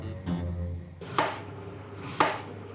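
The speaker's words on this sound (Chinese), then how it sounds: "你怎么那么快切菜啊？" A kitchen knife chops vegetables on a cutting board in a few crisp, separated strikes close by, with a low background hum between them.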